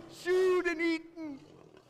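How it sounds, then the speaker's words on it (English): Lions in a pit give a deep, drawn-out roar in two close bursts, loud and near, then a softer, trailing growl fades out. "I went into the pit to the sounds and the roars of those lions."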